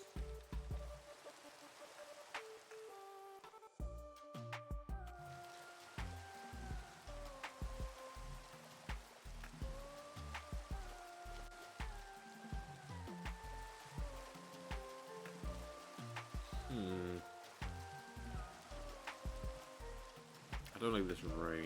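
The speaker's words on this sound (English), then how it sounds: "I don't like this rain." Steady rain hisses in Minecraft beneath continuous game piano music, a soft, even wash that lasts throughout.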